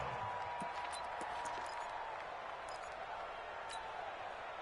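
A steady, dense crowd roar fills an American football video game stadium during a big third-down play, holding at an even level throughout with no clear single voices.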